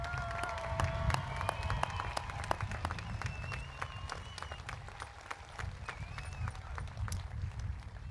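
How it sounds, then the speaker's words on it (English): Applause for the graduating high school class at a commencement ceremony, a broad crowd clapping and cheering heard from a distance, with scattered whistles and sharp claps over a low rumble of the hall. "Could we have a round of applause for the graduates of 2026?"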